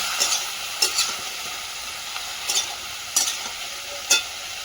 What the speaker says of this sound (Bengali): পরিমাণ মতো হলুদ গুঁড়ো, দিয়ে ভালো করে কষিয়ে নেব।